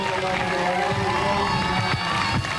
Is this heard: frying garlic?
no